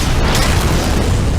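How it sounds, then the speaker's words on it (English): A payload explosion at a birthing station on the StarCraft custom map Cradle of Death, a loud, dense, sustained broadband blast with heavy low rumble that fills the whole moment without a break. "Look at that explosion!"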